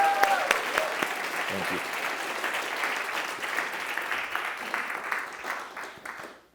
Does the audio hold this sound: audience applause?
yes